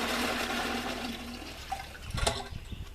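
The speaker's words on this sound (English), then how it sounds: "Your water fell out." Water pours and splashes out of an emergency well bucket as its bottom flap releases, a rushing gush that tapers off with a few trailing splashes and drips.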